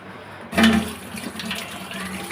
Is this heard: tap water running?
yes